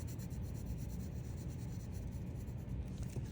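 Steady close scratching of a regular graphite pencil shading on paper, an even, continuous rasp of back-and-forth strokes with no voices over it.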